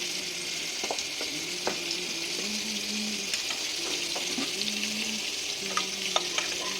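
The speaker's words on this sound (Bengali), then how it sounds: "পাঁচ ফোড়নটা আমি এবার একটু ভেজে নিচ্ছি" Panch phoron spices fry in hot oil in a wok, making a continuous soft sizzle with light crackles and repeated scraping strokes as the spoon stirs them.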